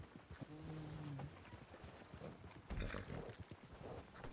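Horse hooves clip-clopping in a western roleplay game, a steady run of soft hoof thuds at moderate distance with a brief low whinny-like tone early on.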